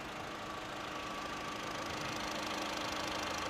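A 2017 Honda Amaze S petrol engine idles with the bonnet open, a steady, even hum with a faint ticking texture, constant and close throughout.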